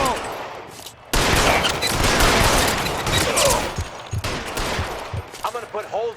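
Gunfire from a rooftop shootout in the video game L.A. Noire on PS4/PS5: a dense, loud volley of overlapping shots and bursts, fading into scattered single shots near the end, with a voice shouting over the firing.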